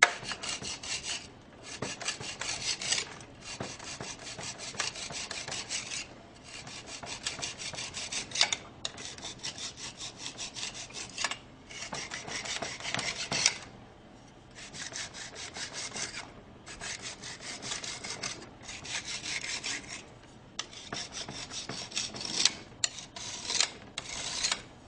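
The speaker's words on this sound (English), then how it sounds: "Take your straight edge, this is why you need a strong one, and you're going to level off the top of the mold," A rigid straight edge scrapes soil level with the top of a compaction mold in a soil compaction test, producing repeated gritty rasping strokes, close and fairly loud, separated by brief pauses.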